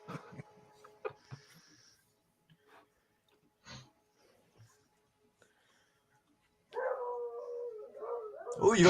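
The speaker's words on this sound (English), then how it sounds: "Oh, you got the wolves in the background." A dog howls in the background with a long, rising, wavering cry that grows loud over the last two seconds, after a stretch of faint scattered knocks and near-silence.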